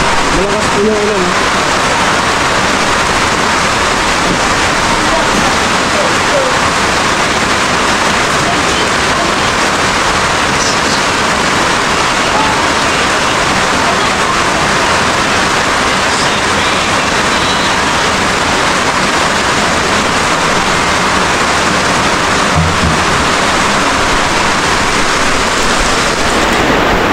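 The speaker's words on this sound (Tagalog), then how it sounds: "Malakas po yung ulan." Heavy rain pours down in a dense, steady roar that lasts the whole stretch, loud and close, with people talking faintly underneath.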